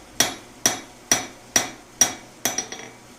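A handheld hammer strikes a Japanese sashimi knife steel on an anvil, ringing out five evenly spaced, sharp metallic blows with bright tails, followed by a quicker cluster of lighter taps.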